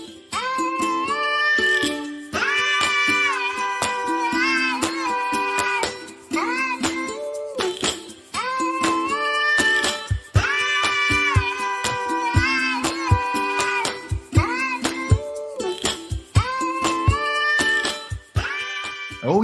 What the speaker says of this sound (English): Oh, yeah, those cats can sing.